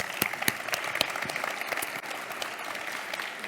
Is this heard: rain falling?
no